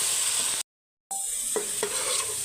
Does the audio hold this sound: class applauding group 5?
no